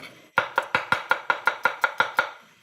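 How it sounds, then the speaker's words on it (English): A knife slices through garlic on a cutting board in about eleven steady, evenly spaced chops, each one crisp and close. "Garlic, slice the garlic."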